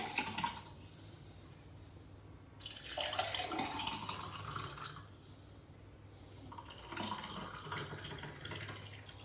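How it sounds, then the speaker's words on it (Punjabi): Lemon shikanjvi drink is poured into a mug in three separate splashing streams with short pauses between them, soft and close, with no talking. "ਆਪਣੀ ਸਕੰਜਵੀ ਜਿਹੜੀ ਤਿਆਰ ਹੋਈ ਹੈ ਇਹ ਹੁਣ ਅਸੀਂ ਮੱਗ ਦੇ ਵਿੱਚ ਪਾਵਾਂਗੇ"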